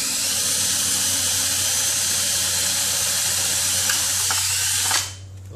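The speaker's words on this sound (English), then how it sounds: "and drill a hole through it." Power drill boring a hole through metal for a sparrow spooker build, a steady loud whine running continuously for about five seconds before cutting off abruptly near the end.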